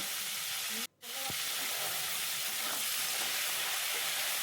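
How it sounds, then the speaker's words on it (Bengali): Crabs fry in a hot pan with a steady, dense sizzle that runs on without pause, apart from one brief dip near the start. "একটা পিঠ ভাজা হয়ে গেলে একটু নেড়ে চেড়ে অপর পিঠটাও ভেজে নেব।"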